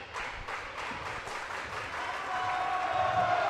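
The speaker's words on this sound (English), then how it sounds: "A loud crowd today" Loud crowd noise fills a high school basketball gym during a Hays High boys game against Manhattan, a steady roar of cheering and clapping that swells louder toward the end.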